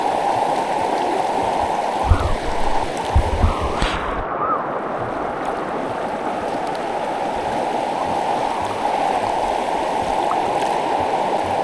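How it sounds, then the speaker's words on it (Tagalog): Steady, loud rushing water of the strong current of the San Narciso River, Mayantoc, continuous and broadband, with a few splashes early on and no voices. "Dito, malakas na yung agos"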